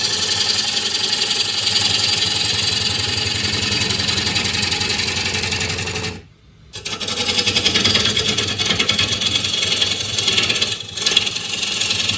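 A lathe gouge making a shear cut on a green elm bowl, a steady loud rasping hiss over the lathe motor's hum, close up, briefly stopping midway before the cutting resumes, with no talking.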